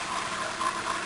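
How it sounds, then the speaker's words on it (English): A household toilet with a waterlogged flapper is flushed, giving a steady close rush of water that surges and gurgles without any talk. "what we're going to do here is we're going to flush the toilet"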